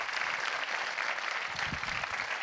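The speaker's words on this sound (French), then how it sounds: "On peut l'applaudir également." An audience claps at a public forum, a steady, moderately faint spread of many hands lasting a couple of seconds, with no clear voices on top.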